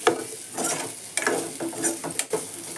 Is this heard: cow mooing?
no